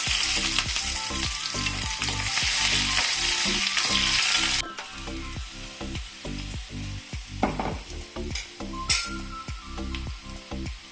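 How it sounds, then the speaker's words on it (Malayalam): Dried red chillies and curry leaves fry in hot oil for a thoveran of veli cheera, a loud, dense sizzle with a steady crackle that drops to a quieter, patchier frying with a few sharp clinks and stirs, no talking. "വറ്റൽമുളക് ഇട്ട് കൊടുക്കുന്നു. കറിവേപ്പില,"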